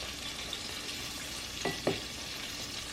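Eggs frying in a pan for a keto breakfast quesadilla give a steady, soft sizzle throughout, with a couple of faint scraping touches and a sharper tap at the very end.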